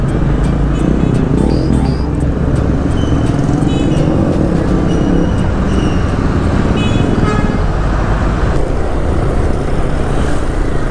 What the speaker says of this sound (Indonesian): ini ada truk mau masuk garasi nih